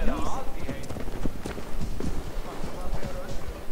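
Horse hooves clip-clop in a steady rhythm in Assassin's Creed Valhalla, moderately loud beneath a continuous game soundscape.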